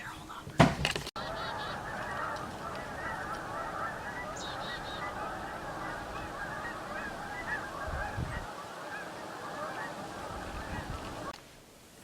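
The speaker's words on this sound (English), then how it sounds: "There's like a gazillion geese out there." A large flock of geese honks continuously outdoors, a dense, moderately distant chorus lasting several seconds, with a brief nearby voice at the start and small handling bumps.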